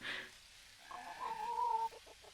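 Chickens cluck in the farming video game Dinkum, a short burst of nearby clucking sounds, with a drawn-out squawk near the end, heard alone without talk.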